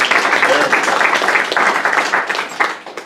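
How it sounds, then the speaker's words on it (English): Audience applause with steady clapping from a crowd at an evening talk in a West Seattle senior living venue, sustained and fairly loud throughout, tapering slightly near the end. "Let's give an applause to those guys."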